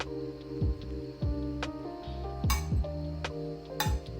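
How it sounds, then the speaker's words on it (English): Raw potato slices are laid into a casserole dish with a series of close, light clinks and dull taps against the dish, spaced irregularly over a low hum. "Now we take the potatoes, we align them in the casserole."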